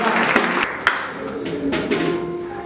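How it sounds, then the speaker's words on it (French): Brief burst of applause from a crowd at a church auction sale, steady clapping that carries through the whole short moment with a couple of sharper claps standing out. "Nous acclamons pour ça."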